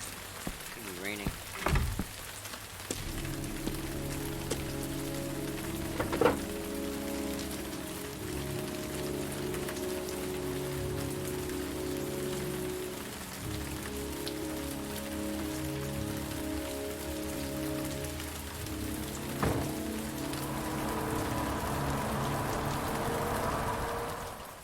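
Rain falls steadily in the video game Heavy Rain at a motel, a continuous hiss of drops on surfaces with a few sharper knocks, a low hum, and a voice speaking over it.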